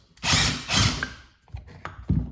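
A cheap chrome 10mm socket wrench works on a dirt bike's axle lug, giving two harsh grinding bursts followed by a few metallic clicks and knocks close by.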